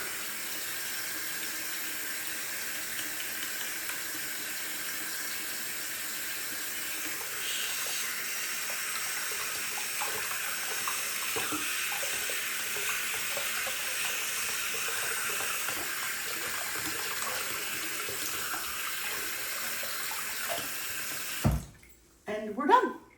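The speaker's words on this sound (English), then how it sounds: "Wash my hands." Water runs steadily from a sink tap during handwashing, a continuous close hiss and splash lasting most of the stretch before the flow shuts off with a few clunks at the end.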